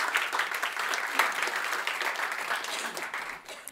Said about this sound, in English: a warm applause and good luck with your work.